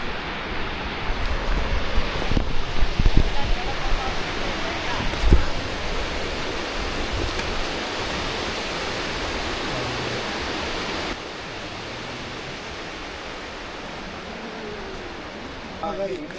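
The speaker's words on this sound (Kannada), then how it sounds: "ಅಲ್ಲಿ ನೋಡಿ, ಅಲ್ಲೇ ಇದೆ ಮಲ್ಲಳ್ಳಿ ಫಾಲ್ಸ್" Mallalli Falls in Coorg makes a loud, steady broadband rush of falling water that fills the whole clip, with faint voices and a few thumps near the start.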